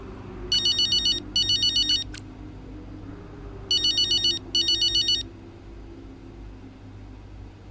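A phone ringtone in the F1 25 racing video game trills in two pairs of bright electronic bursts, with a gap between the pairs. It sounds over a low steady hum, and no one speaks.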